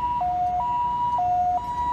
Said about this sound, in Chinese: 救护车紧急到场